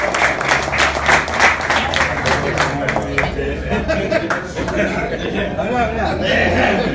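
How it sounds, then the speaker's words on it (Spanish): Applause from a crowd of off-road travellers at a 2019 coastal 4x4 farewell gathering, steady dense clapping with chatter and chuckles mixed in throughout. "Aplausos."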